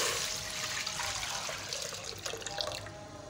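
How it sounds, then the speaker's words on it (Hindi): Milk pouring steadily into a cooking pot, a continuous hissing liquid splash close up that lasts the whole stretch with no talking. "इसमें दूध डालेंगे"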